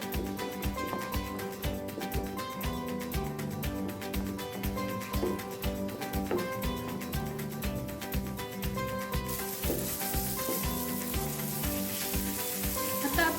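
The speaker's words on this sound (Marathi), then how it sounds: "हे चांगलं आता तेल सुटेपर्यंत परतून घ्यायचं आहे" Veg Maratha gravy frying in oil until the oil separates, a dense steady sizzle under rhythmic pulsing sound, growing brighter and louder toward the end.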